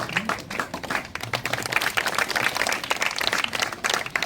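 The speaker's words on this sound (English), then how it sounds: "Give a round of applause, children." Children applauding at a felicitation ceremony on World Environment Day, a brisk, steady round of clapping close by with little talk.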